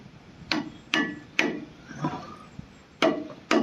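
Sharp hammer taps tapping rear brake pads into place on a Mk8 twin-wheel Ford Transit, about six in uneven bursts, close by with a woody knock and faint rustling between strikes.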